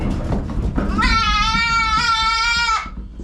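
Young Kiko buck goats scream loudly while being loaded to sell at auction, a long harmonic bleat of about two seconds rising over a noisy background after some rustling, close and strong.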